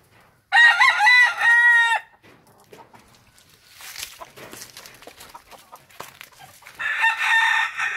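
A gamecock kept as a breeding stud crows loudly and close by in one long harmonic call, followed by a stretch of low rustling and scattered yard noise, then a second crow starts near the end.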